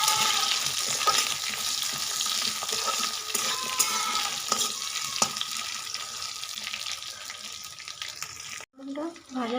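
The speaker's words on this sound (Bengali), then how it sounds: "পটলটা ভাজা ভাজা করে নিয়ে নিয়েছি।" Pointed gourd frying in oil in a pan, a steady moderate sizzle with a few stirring clicks, and a voice speaks briefly at the very end.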